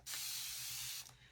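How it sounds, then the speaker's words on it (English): Plain tap water sprayed from a spray bottle onto a wooden serving tray gives one short, close hissing burst of mist lasting about a second, with no talking. "I'm gonna spray it with just plain old tap water"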